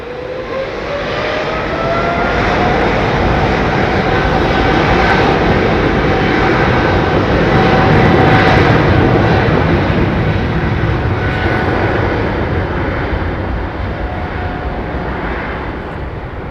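A jet airliner taking off on the runway at London Heathrow Airport, a loud, steady engine roar that swells and holds throughout with a rising whine, heard alone without talk.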